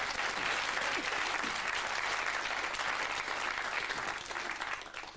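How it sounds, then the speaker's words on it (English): A studio audience at a children's puppet show gives a round of applause for a performer named Jack, a dense, loud burst of clapping that holds steady and then tapers off near the end. "Well, give him a round of applause"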